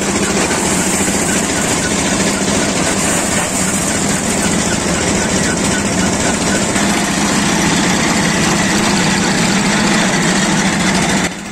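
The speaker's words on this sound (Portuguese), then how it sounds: "o pai deu uma acelerada e a correia escapou" The engine of a corn threshing machine drones loudly and steadily at close range, with a rough mechanical rumble throughout and a sudden drop in level right at the end.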